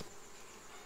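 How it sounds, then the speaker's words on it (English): Honey bees in a beehive super at an apiary in Jamaica make a dense, steady buzz, a continuous close drone with no pauses and no voices. "As you can see, there are lots of bees here in the super."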